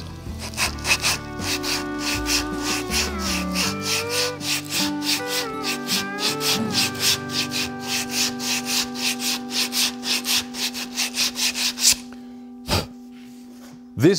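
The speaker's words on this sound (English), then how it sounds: "just sand it a little bit" Rapid, rhythmic rasping strokes of sandpaper on wood carry on steadily for several seconds, then stop, leaving a couple of light knocks.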